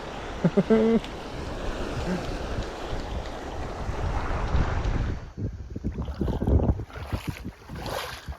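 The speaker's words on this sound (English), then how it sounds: "The wind's starting to pick up a bit" Wind gusts by the water in the shallows while fishing, a rough steady rush against the microphone with lapping water and a few brief knocks, close and fairly loud, with brief voices early on.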